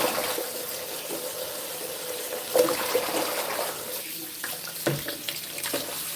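Fresh green leaves rinsed under a running tap into a bowl while juicing, a steady close splash of water with a few brief clunks and shifts in the flow.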